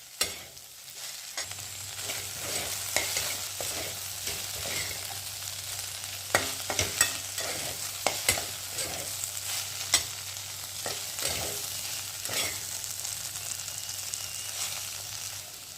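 Okra sizzles and fries steadily in a pan, with scattered scraping and stirring clicks throughout, close and moderately loud, no voices.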